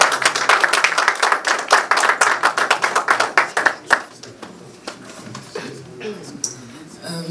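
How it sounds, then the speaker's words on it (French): An audience at a transitional government event claps for a few seconds in a burst of rapid hand claps that thins out and fades, with a voice speaking afterward. "Pendant que Madame Mishimba avance, je vous prie de bien vouloir applaudir"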